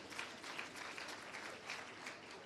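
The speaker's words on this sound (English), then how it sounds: "Let's give them a hand of applause." Faint audience applause at a skills development centre launch, a steady patter of many hands clapping without pause, heard from a distance.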